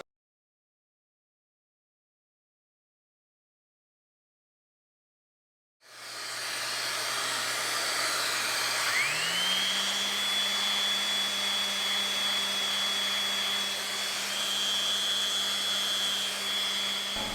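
A DeWalt power sander switches on after several seconds of silence and sands laser-cut pieces with a steady, close whirring hiss. Its motor pitch climbs and then holds level as it runs on alone.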